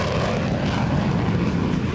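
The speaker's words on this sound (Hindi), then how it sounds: "युद्ध में शामिल पाकिस्तान और तुर्की दोनों के पास अमेरिकी F-16 फाइटर जेट।" An American-made F-16 fighter jet in flight over the Armenia–Azerbaijan war zone gives a loud, steady, broadband engine roar that holds without a break, with no voices.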